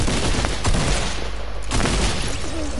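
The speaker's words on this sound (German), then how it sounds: "Schieß mal Rocket, schieß mal Rocket. Schieß!" Rapid video game gunfire crackles in dense bursts, with a couple of sharper loud shots standing out from the continuous rattle.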